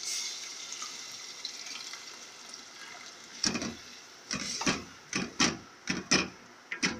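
Boiled chickpeas and their cooking water tip into a pan in a run of close, wet splashes and slops that come in uneven bursts after a soft, steady background.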